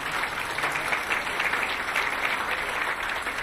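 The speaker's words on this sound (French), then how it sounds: "je vous demanderai d'applaudir très fort mon ami Mbagnick Diop" At an African leadership awards event, an audience gives a continuous, dense round of applause, even and sustained throughout at moderate volume, with no voices over it.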